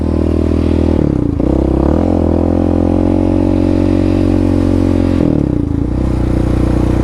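Yamaha Raptor 700 ATV fitted with a Dasa exhaust pipe and EHS tune, its engine loud and close as the rider slows hard, the steady drone dipping twice with downshift blips and rumbling rev changes.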